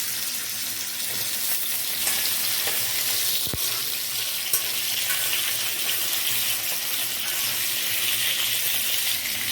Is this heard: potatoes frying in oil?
yes